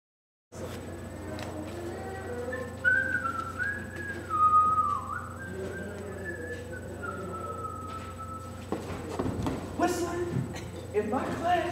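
A person whistles a wavering melodic tune indoors, moderately close, lasting several seconds, followed by brief clattering and commotion near the end.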